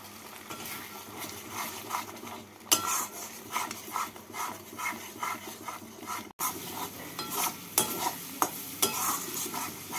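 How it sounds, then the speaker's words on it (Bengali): Spice paste for a Bengali prawn and jackfruit kalia fries in a pan under vigorous stirring, with a constant hiss and frequent metallic scrapes and taps of the spoon, close and busy, briefly cut off once. "এবার মশলাটাকে ভালো করে কষিয়ে নেব।"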